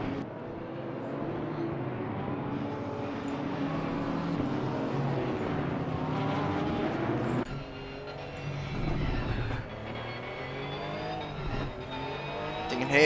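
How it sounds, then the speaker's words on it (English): A Porsche race car engine in the Assetto Corsa Competizione racing game drones and revs steadily at the Hungaroring, pitch rising and falling with gear changes and acceleration, loud and close throughout. "You can hear here Jean in the Porsche just trying to get some heat into the tyres and brakes"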